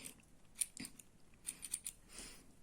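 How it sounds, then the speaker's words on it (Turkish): Scissors snip brown yarn cords short in a handful of quick, faint, crisp cuts, alone in a quiet room. "Şimdi kahverengi iplerim üç tanesini kısa kestim"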